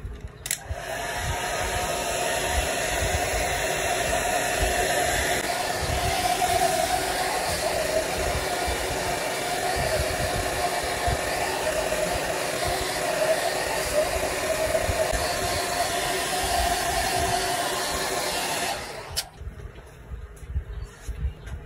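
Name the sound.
heat gun softening phone adhesive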